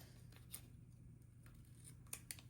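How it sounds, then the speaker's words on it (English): Scissors trimming the white edge off a sticker for envelope decorating: a few faint, quiet snips in close, still surroundings. "We may even trim it down the side here to take as much white off the sticker as possible"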